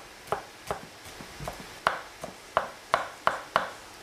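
Two garlic cloves chopped with a knife on a cutting board, about ten sharp distinct knife strikes spaced irregularly, close and fairly quiet, growing firmer toward the end, with no talking.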